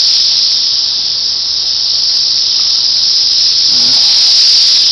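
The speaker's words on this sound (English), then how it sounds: "But that's what the cicadas are." Cicadas in Tennessee, insects about 1.25 inches long, keep up a loud, steady, continuous high-pitched buzz for the whole stretch, with no pauses and no talking over it.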